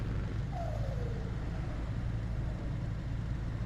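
A V8 truck engine in the Euro Truck Simulator 2 driving game hums at a low, steady drone, fairly quiet and unbroken, with a faint whistling tone rising briefly over it and no talk.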